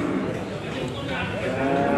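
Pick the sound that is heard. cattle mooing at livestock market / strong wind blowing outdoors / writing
cattle mooing at livestock market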